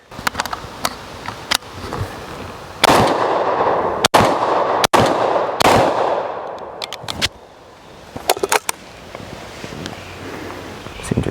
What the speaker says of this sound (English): we're going to get started shooting